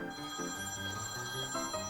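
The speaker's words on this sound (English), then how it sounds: "Get the phone!" Telephone bell ringing continuously and fairly quietly, a trilling electronic ring with shifting tones and no talk over it.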